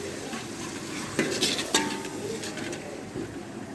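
Ground masala with garlic and ginger frying in a pot for chana pulao, a continuous sizzle broken by a few clinks and scrapes of a spoon stirring against the metal.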